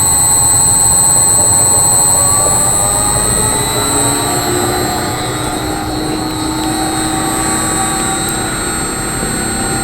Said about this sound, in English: I want you to listen to the motor.